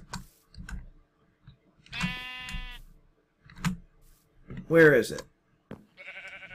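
Sheep in the Minecraft video game bleat in short wavering calls, two or three separate bleats spaced between clicks and a player's quiet speech, close and moderately loud.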